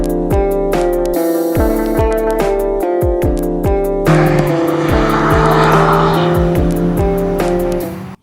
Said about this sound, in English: given it a louder and more aggressive exhaust than its track-focused sibling